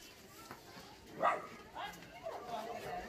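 A couple of soft yips from a dog at moderate distance, mixed in with low background noise and nearby voices during Halloween trick-or-treating in Cyprus.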